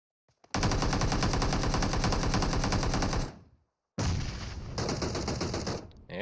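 AK rifle fire in the mobile battle royale game PUBG Mobile, a long loud rapid-fire burst lasting nearly three seconds, a short silence, then a second sustained burst.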